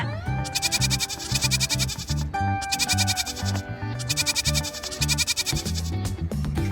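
A goat bleat, probably voiced as a sung imitation, repeats within a Kazakh children's song about farm animals. The bleating bursts sit over steady music and rhythmic backing throughout.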